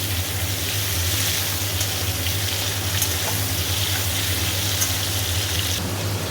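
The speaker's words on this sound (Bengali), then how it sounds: "আলুগুলো একটু ভাজা হয়েছে এবার দেবো বেগুনটা একটু ভাজা হোক" Potatoes fry in oil in a pan as eggplant is about to be added, a steady close sizzle over a low constant hum, with a few faint clicks and no speech.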